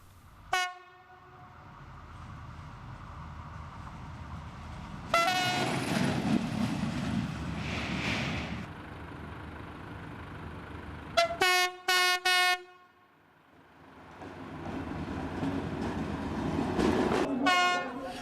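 A French TER regional train pulls away from a station near Brignoles with a rumbling engine and rolling wheels, punctuated by several loud horn blasts, then fades before more rumbling returns.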